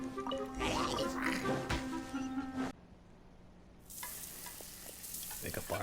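Food sizzles over a campfire in a video game, a steady frying crackle with bright hissing. It breaks off briefly into near silence, then resumes more softly.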